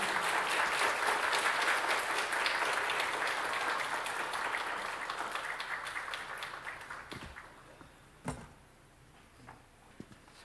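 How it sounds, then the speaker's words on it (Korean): Church congregation at a Korean revival service giving warm applause to welcome the pastor, a dense steady wash of clapping that fades out over several seconds, followed by a few faint thumps and near silence. "우리 김덕신 목사님 모시게 돼 너무너무 감사드린데 우리 목사님 모실 때 뜨거운 박수로 환영하겠습니다."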